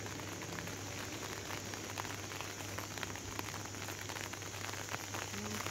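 Early morning rain falls steadily and softly, a faint, even patter on surfaces with a constant low hum behind it and no voices.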